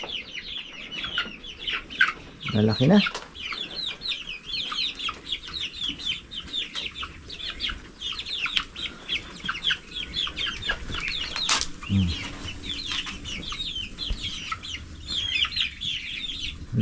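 Chickens cluck and chatter continuously in a busy flock, with occasional wing flaps and a short spoken remark near the start.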